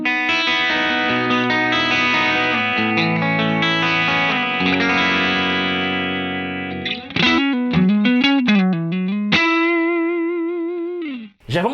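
Electric guitar runs through a Vox Treble Boost and a custom amp in Bias FX 2. Thick, distorted, sustained chords give way to choppy staccato stabs and then a long, bent single-note lead, loud and without talk.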